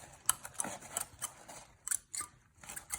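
Scissors snipping away excess coconut husk fibre on a handmade birdhouse, a quiet run of quick, irregular clicking cuts close by.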